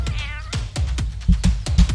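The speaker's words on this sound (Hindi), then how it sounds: "ये बिल्ली यहाँ क्या कर रही है?" A cat in a cartoon comedy scene gives one clear, wavering meow at the start, followed by loud rhythmic thumping beats of upbeat music.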